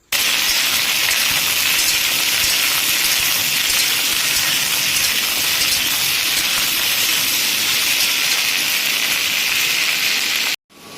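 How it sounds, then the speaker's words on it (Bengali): Okra (bhindi) frying in hot oil in a home kitchen: a steady, dense sizzle with crackling spatter that holds level and close for about ten seconds, then cuts off abruptly. "প্রথমে আমরা ভেন্ডিটাকে ভেজে নেব"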